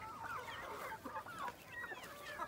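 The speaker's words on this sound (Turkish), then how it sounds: "Burada horozlar var ama bir bakayım." Chickens and roosters in a Denizli farm coop give soft, overlapping clucks and short rising calls, moderately close and continuous over faint background noise.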